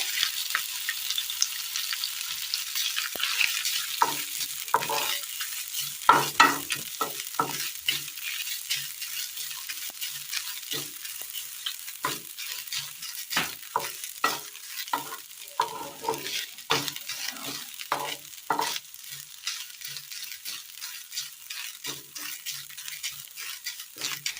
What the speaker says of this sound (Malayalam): തേങ്ങ ഒന്ന് ലൈറ്റ് ഗോൾഡൻ കളറായി വന്നിട്ടുണ്ട്